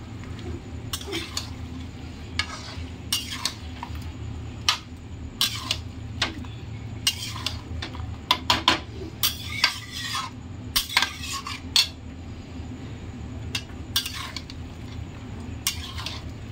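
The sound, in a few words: stir-frying chicken with yogurt in a pan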